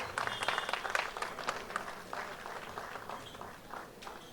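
Audience applause for a family at a mobile phone launch and film event, distinct claps from a modest crowd, strongest at the start and gradually thinning, with murmured voices beneath.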